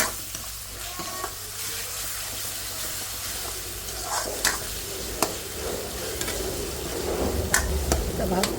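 Onion sizzles and fries in a pan with ginger and garlic paste, a steady crackling hiss throughout, punctuated by occasional scrapes and clinks of stirring.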